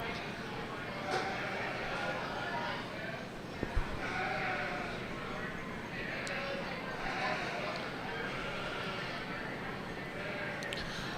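Romney ewe lambs bleat now and then amid a busy youth sheep show ring, with steady crowd murmur and talk running underneath throughout.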